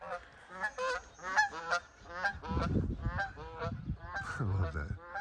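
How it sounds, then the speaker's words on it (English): A flock of geese flies overhead, honking in a rapid, repeated chorus. The calls are moderately close and come with a soft, low rushing beneath them. "I love it when the geese fly over. You can hear their wings."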